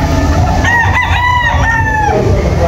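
Young roosters (stags) of game fowl breeds crow loudly at close range in a single drawn-out call, with clucking around it and no talk.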